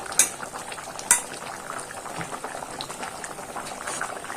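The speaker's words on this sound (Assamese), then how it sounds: "এতিয়া মাছখিনি দিয়াৰ পিছতো উতলিলে।" Fish curry boils steadily in a pot, with a dense, continuous bubbling and a couple of sharp metallic clinks near the start.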